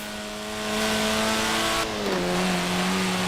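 A Lotus Elan sports car from the 1960s, driven in Forza Horizon 4, holds a steady engine drone that climbs in pitch, then drops and settles after a gear change; no voices.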